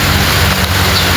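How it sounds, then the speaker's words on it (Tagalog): Rain falls steadily at an outdoor cactus plant nursery, a loud, dense hiss that fills the whole moment without pause. "Umuulan na."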